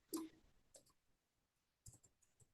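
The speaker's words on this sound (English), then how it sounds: "I'm typing it." A few sparse clicks from typing on a computer keyboard during a Python programming lesson, faint and close, in small irregular bursts separated by quiet gaps.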